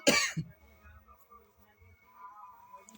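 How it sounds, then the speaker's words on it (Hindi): One sharp throat clearing, followed by a short cough and quiet breathy murmuring from a man teaching a class 10 maths lesson indoors. "खांसी हो गया बोलते बोलते"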